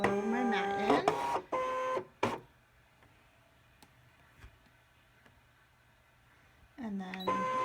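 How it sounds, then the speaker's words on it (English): A Brother ScanNCut cutting machine loads and feeds a cutting mat, with short whirring motor runs and clicks around a long quiet stretch. A person talks over the start and end. "And then I press start and it scans it first. You can see just like a Cricut, it's feeding it in."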